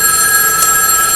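A landline telephone rings, a steady electronic trill sounding loud and close for a brief moment with no talking over it.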